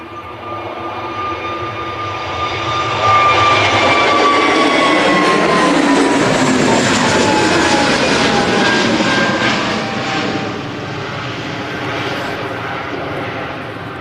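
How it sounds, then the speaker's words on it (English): An Easyjet Airbus A320 departs Manchester Airport, its jet engines swelling to a loud, close roar with a whining tone, then holding steady before easing slightly as it climbs away. "This is an Easyjet A320 going to Antalya."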